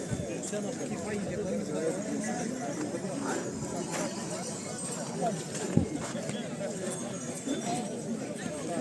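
Horses clip-clop at a horse show and gathering of carters high in the mountains of a Ukrainian village. Soft hoof clops and faint clinks sit under almost constant nearby talk amid outdoor crowd noise.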